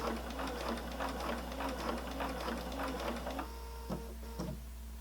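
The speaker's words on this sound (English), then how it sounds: "then you'll start sewing in that straight line" A sewing machine stitches a straight seam in a rapid, even mechanical chatter over a low steady hum, then slows to a few separate thumps near the end, close by with no talking.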